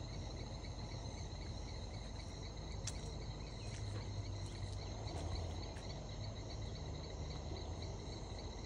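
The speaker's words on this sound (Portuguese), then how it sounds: "Isso é grilo? Acho que é grilo, né? Cantando." Crickets chirp steadily in a continuous shrill chorus, with a low background rumble underneath and no voices.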